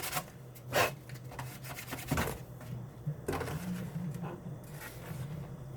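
Steady rasping sanding strokes rub back and forth on a Losi 5IVE-B RC car part over a low motor hum, with a few louder scrapes standing out, close by.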